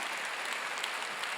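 A church congregation at a seminary graduation service claps in a dense, even burst, fairly soft and distant, with no voices over it.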